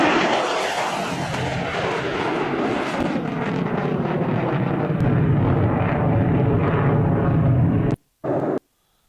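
An F-15 fighter jet takes off with a loud, sustained roar that fills the whole clip, steady and broadband, before cutting off abruptly near the end with a brief final burst.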